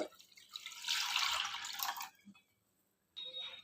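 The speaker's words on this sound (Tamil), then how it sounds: "உங்களுக்கு எவ்வளோ புளி வேணுமோ அதுக்கு தகுந்த மாதிரி கரைச்சி எடுத்துக்கோங்க. அது இதில் ஊற்றிக்கோங்க." Dissolved tamarind water poured into a pot of rasam, a splashing, trickling pour that stops, followed by a brief second splash after a pause.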